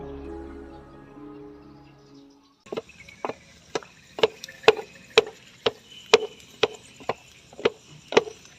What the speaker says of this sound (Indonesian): Dayang dan penduduk desa pun mulai membakar dan menumbuk padi di lesung.